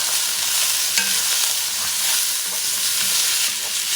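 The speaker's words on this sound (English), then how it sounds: "Pumpkin, carrots, potatoes. Mix things around." Pumpkin, carrots and potatoes are stirred in a hot pot for a bison oxtail stew, a loud, close, continuous sizzle with light scraping from the mixing and no talk.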